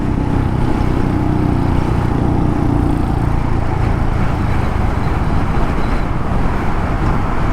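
On a rainy commute, a Hunter 350 motorcycle engine is nearly out of fuel, running with a loud, rough drone mixed with wind and road noise and faltering slightly partway through.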